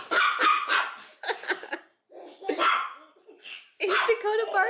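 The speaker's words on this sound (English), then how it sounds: "Dakota barking at you?" Dakota, a family dog, barks in short bursts with yips in a home, close and loud, separated by brief silences, with a person talking between the barks.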